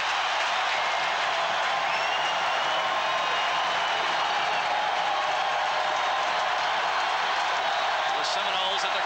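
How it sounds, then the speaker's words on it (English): A roaring football crowd fills Clemson's Death Valley stadium at a 1988 Florida State game, a dense, sustained wash of cheering that stays loud throughout, with a voice faintly audible under it. "The crowd is unbelievably loud down here."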